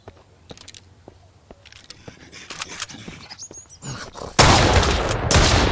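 Scattered sharp clicks and small impacts build toward a loud burst of gunfire in the game Mist Survival near the end, the shots crackling close and harsh.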